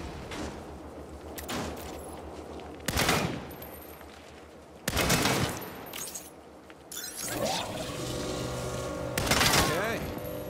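A quantum aperture weapon fires at targets in Saints Row, with several sharp loud bursts separated by quieter stretches and a shattering, crackling burst near the end, while people talk.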